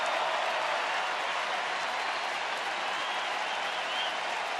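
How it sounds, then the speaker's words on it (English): Baseball stadium crowd cheering and applauding during a late-September game, a steady, dense roar of clapping and voices filling the whole stretch without a break. "Crowd again really into it here tonight."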